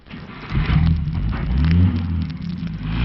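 A car engine rumbles and revs up as the vehicle pulls away, a loud, close, rising drone in an old-time radio drama.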